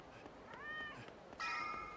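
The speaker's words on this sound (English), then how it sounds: "Oh, kitty cat." A cat in the video game Yakuza 0 gives two short rising meows, the second louder and brighter, over soft ambient game background.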